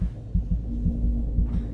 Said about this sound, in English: Why is my heart beat?